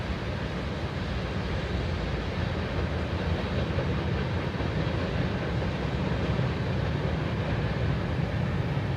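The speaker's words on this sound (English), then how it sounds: "Got a train going by up there." A train rolls past near the Great Falls Mill ruins, a steady broadband rumble and clatter that holds constant throughout, fairly close and with no speech over it.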